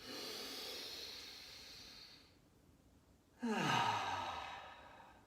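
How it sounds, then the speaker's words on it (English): Deep breath let out forcefully in a breathing exercise: a long airy exhale, a short pause, then a sharp, loud, rushing push of breath that tails off, heard close up with no talk. "deep breath. Squeeze out all the stale air."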